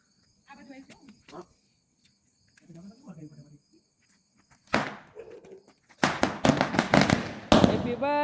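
Firecrackers set off at a birthday celebration, bursting in a rapid crackling string toward the end after an earlier single pop. A few people talk during the quieter opening.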